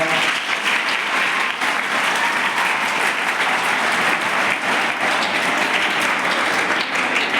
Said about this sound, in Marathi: ज्यांनी भाषण दिले त्यांच्यासाठी टाळ्या वाजवा